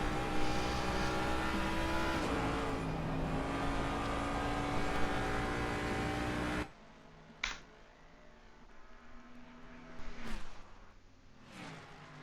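A race car on the Nordschleife, its engine revving hard with a steady throttled roar and gear changes, then cutting to quieter, more distant engine noise with sharp blips and surges.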